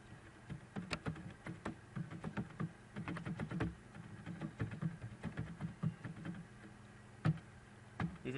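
Typing on a computer keyboard while writing HTML code, quiet close clicks in irregular bursts and pauses, soft against a faint room hum, with no talking.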